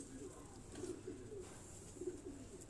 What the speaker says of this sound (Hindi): ये टोपी वाली वो ब्रीड के ये जो कबूतर हैं